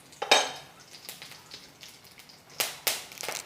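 Mustard seeds and a dried red chili cut in two are dropped into hot oil, giving soft crackling and sizzling with sharp pops and utensil clatter in a quiet home kitchen.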